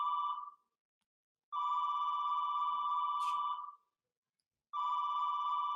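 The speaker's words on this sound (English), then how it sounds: "I think there's a phone ringing. Yeah, it's in the background." A phone rings in the background in repeated long electronic tones separated by silent gaps, steady and moderately faint.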